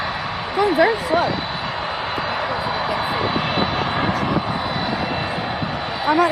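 An Atlas Air Boeing 747 jet comes in to land at Manchester airport, its engines a loud, steady roar that holds throughout, with people talking over it nearby.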